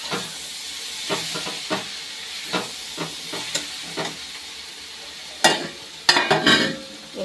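Tomatoes fry in a pan with a steady sizzle and hiss, broken by several stirring scrapes, then louder bursts of sizzle and steam near the end, close and with no talk.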